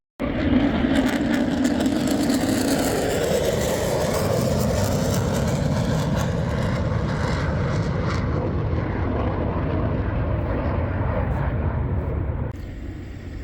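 F-35A and PC-21 military aircraft flying past, a loud continuous jet roar sweeping through overhead and slowly fading as they move away, ending abruptly.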